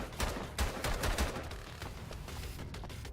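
Rapid bursts of gunfire from the Bunker Punks shooter game crackle in uneven clusters, loud and sharp, with no talking over them.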